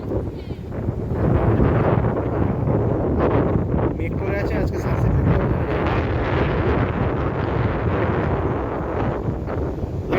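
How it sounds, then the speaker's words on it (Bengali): Strong wind gusts across a beach at sunset on Neil Island in the Andamans, a loud continuous buffeting roar on the microphone throughout, while a voice talks over it. "আপনারা অবশ্যই আওয়াজ পাচ্ছেন, প্রচণ্ড হাওয়া দিচ্ছে এই সময়।"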